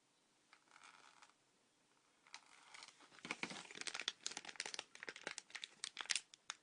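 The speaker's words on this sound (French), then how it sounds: "je vais ouvrir le troisième sachet" A crinkly plastic figurine bag is torn open and handled, giving a burst of close crackling and rustling that grows busier and louder over several seconds after a few faint rustles.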